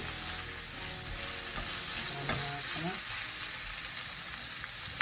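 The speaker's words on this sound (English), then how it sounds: "Caramelise my onions, and we've got some ginger and garlic here." Onions caramelising with ginger and garlic in a pan, a constant hissing sizzle with a few soft stirring scrapes, close and steady.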